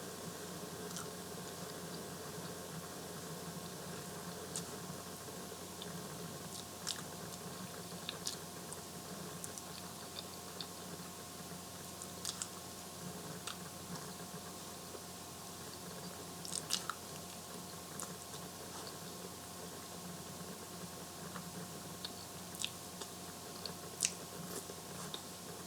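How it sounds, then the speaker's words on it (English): Someone chewing fast-food fries from Rush's close to the mic, with soft, steady mouth sounds and occasional sharper crunchy clicks over a constant low hum, without talking. "I've got to hurry up and eat my fries."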